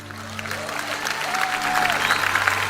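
A church congregation breaks into applause that swells and grows louder toward the end, over a steady hum, with a few voices in the background.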